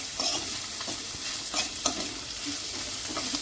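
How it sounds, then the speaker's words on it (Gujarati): Two medium onions, sliced very thin, sauté in a pan for noodles, producing a light continuous sizzle with repeated clicks and scrapes of stirring, close up and without speech. "ડુંગળીને થોડી સાંકળી લઈશું."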